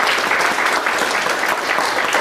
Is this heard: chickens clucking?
no